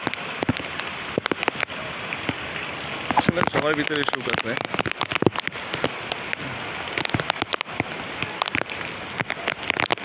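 Heavy rain in Dhaka patters and crackles densely and continuously on surfaces nearby, with sharp drop hits throughout while someone talks over it.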